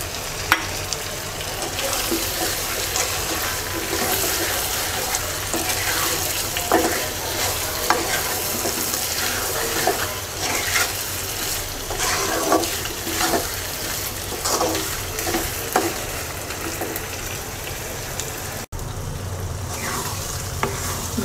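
Hog plum pieces stirred and sautéing with salt in a pan for a sweet-sour pickle, a steady close sizzle with scraping stir strokes throughout, no talking.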